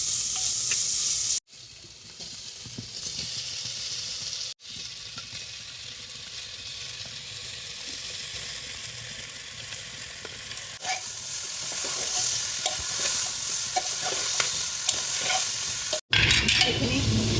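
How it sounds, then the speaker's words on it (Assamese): Jackfruit pieces frying in oil in a pan for an Assamese dish, sizzling loudly and steadily while a spoon stirs now and then, with a few brief breaks in the sound. "এইখিনি 5 মিনিট এনেকৈ ভাজিলোঁ"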